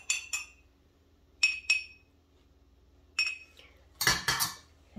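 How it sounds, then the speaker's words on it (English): Spoon stirring a warm drink with bitters in a glass, sharp metallic clinks in quick pairs and bursts, separated by quiet gaps, with a denser rattle of clinking near the end. "I'm going to give this a few stirs."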